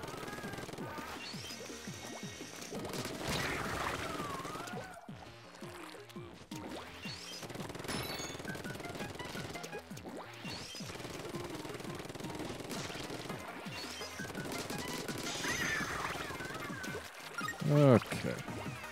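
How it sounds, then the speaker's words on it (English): Splatoon 2 ink weapons firing in bursts during a match, rapid shots mixed with splashes and game effects under near-continuous talking. "I heard you shooting over there"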